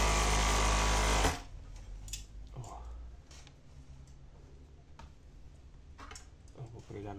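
An industrial sewing machine runs in one loud, fast burst while stitching elastic onto the waist of a retro bikini, then drops to quiet clicks and handling noises as someone speaks.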